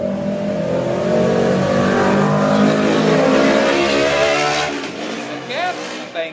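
A motorcycle engine revs loudly through its muffler, a thick, steady roar that holds for several seconds before easing off, with a brief voice-like sweep near the end.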